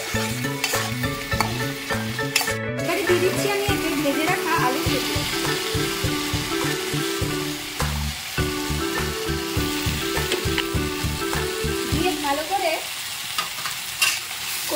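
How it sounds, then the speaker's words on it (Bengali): Ground spices and salt are sautéed in oil for a bhola fish curry with potato and eggplant. A steady close sizzle with stirring scrapes runs throughout beneath rhythmic background music. "পরিমাণ মতো নুন দিয়ে কষিয়ে দিচ্ছি।"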